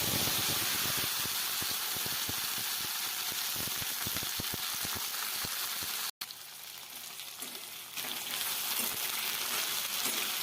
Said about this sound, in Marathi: कढईमध्ये तेल घेतलंय मोहरी टाकली आणि जिरे टाकले थोडे